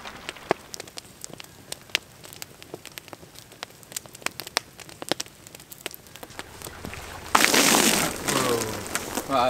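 Steady patter of raindrops hitting a surface, scattered sharp drips throughout, then a louder, denser wash of rain or runoff near the end.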